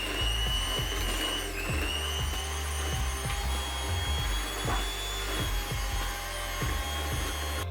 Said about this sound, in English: reduce the mixer speed to medium and start adding the eggs one at a time